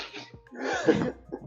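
A single sharp sneeze bursts out near the microphone during a tabletop role-playing game session, with a short breathy intake before it and faint voices around it.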